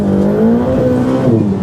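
A Ferrari F8 Tributo accelerates hard in first gear, a loud, close engine roar rising in pitch as it pulls, with no voices.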